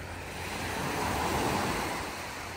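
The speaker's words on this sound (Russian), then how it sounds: "Пришли на пляж. Море сегодня спокойное," Calm sea waves wash onto a beach in Malaga on a cloudy day, a soft swelling surf with faint wind rumble that rises gently in the middle and eases off again.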